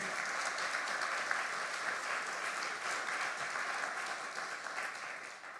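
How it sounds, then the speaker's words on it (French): Steady applause from an audience at a round-table discussion on tile and brick façades, a dense even patter of many hands clapping that holds for several seconds and tapers slightly at the end. "Vous pouvez applaudir."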